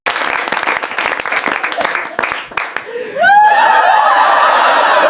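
An audience claps in a dense, rapid burst for about three seconds at a comedy skit, then the applause stops and a voice takes over.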